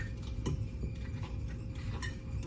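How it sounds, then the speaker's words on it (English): A spoon stirs marmalade into Dundee muffin batter in a bowl, giving a steady run of soft scraping and light clinks against the dish, close and continuous. "put your 3 tablespoons of marmalade in there. And then you're just going to mix it for a few seconds"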